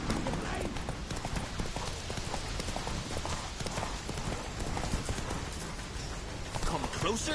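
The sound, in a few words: horse Roach galloping in a video game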